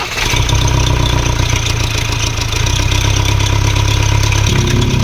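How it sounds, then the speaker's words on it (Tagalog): A 2024 Ford Ranger 2.0 engine with a wet timing belt and fault codes P1664 and P228C runs loud and close, a steady idling rumble that holds throughout, with a slight drop in pitch near the end. "Okay, engine start."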